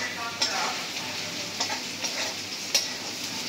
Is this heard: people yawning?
no